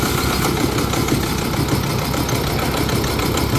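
An Isuzu 1.9 diesel engine drives a 22 kVA generator, a loud, close, steady running rumble with a constant mechanical clatter throughout.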